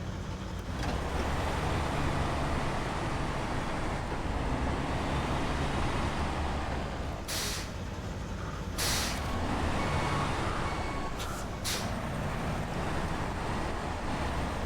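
A heavily loaded truck carrying concrete blocks drives in a video game set at a power pylon repair in Black River, Michigan. Its engine and road roar stay steady and loud, with a few short hissing bursts.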